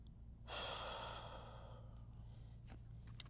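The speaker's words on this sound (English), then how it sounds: "I will lean onto that area and take 5 to 10 slow breaths" One long, slow breath is drawn in and released during self-massage of the oblique muscles, close and soft, followed by quieter rustles.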